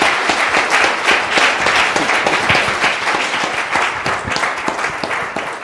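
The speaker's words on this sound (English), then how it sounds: "can we please give a round of applause" Audience applauding for Ed Vaizey at a panel discussion on tech clusters, a steady roar of dense clapping held at full strength throughout, with no voices over it.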